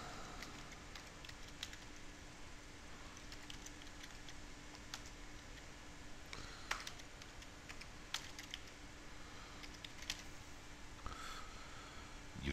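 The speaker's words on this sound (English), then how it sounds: "You type in your email" An email address being typed on a computer keyboard, a steady patter of soft keystrokes under a constant background hiss, fairly quiet and continuous.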